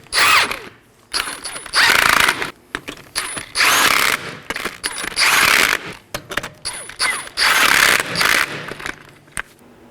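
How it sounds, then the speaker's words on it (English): A clicking ratchet on a torque wrench tightens the lower control arm bolts of a Chevrolet Equinox in a crisscross pattern, loud and close, coming in repeated bursts of rapid ratcheting with brief pauses between them. "let's go ahead and torque these to 100 foot-pounds in a crisscross pattern"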